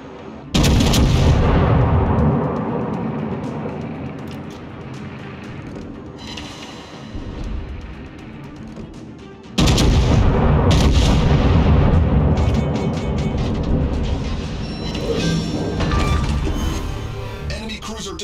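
Heavy battleship guns from the König firing in World of Warships, two loud booming salvos with long rumbling tails separated by a quieter stretch, close and dominant.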